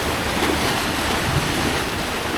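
Ocean waves washing against dumped construction rubble along a shoreline in Jakarta, a constant loud rush of surf blended with wind buffeting the microphone.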